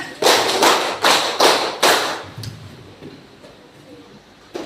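A class claps together in a counted rhythm, five sharp, evenly spaced group claps up close, then a quieter room with faint movement.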